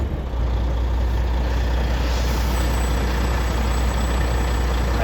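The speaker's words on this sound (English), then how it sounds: "I got an air leak when I depressed the brake pedal somewhere on the front axle" Air brake leak at the front axle brake chamber of a truck on the road, a continuous loud hiss with engine hum underneath, steady throughout, no talking.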